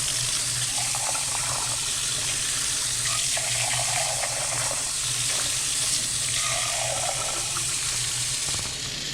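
Canned garbanzo and black beans get rinsed under a running kitchen tap, the water splashing loud and steady through the whole stretch with a shifting, hissing spray and no talking.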